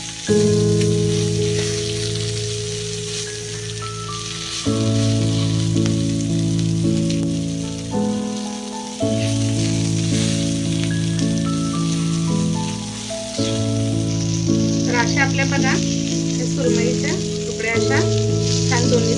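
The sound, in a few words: surmai fish pieces frying on a pan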